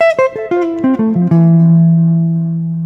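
A guitar plays a minor 7 lick: a quick descending run of about eight distinct plucked notes, each ringing clearly, settling on a final low note that sustains and slowly fades, loud and close with no talking.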